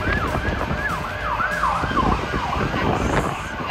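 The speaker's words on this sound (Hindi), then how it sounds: "एम्बुलेंस को देखो कैसे जगह देते हैं सब लोग।" An ambulance siren wails in a rapid, repeating up-and-down pattern, fairly close, over the rumble of traffic on a six-lane road in Dubai.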